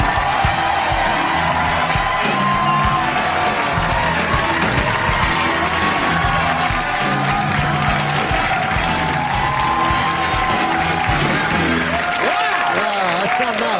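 A studio audience on a talk show cheers and applauds as comedian Norm MacDonald walks out, with a loud continuous roar of crowd noise, whoops and clapping sustained throughout.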